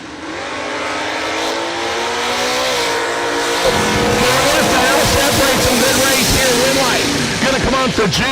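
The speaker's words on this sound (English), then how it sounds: "Reynolds in the S10 pickup truck left-hand side, 621 dial and 620 for Jude Kirstnason and Jeremy West's Noisy Business 2 Chevy 2 Nova." A drag race launch with an S10 pickup truck and a Chevy II Nova: loud engines roar and build steadily, rising sharply after a few seconds, with an announcer talking over them.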